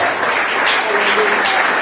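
Church congregation clapping together during a sermon, dense steady applause filling the short moment, loud and close.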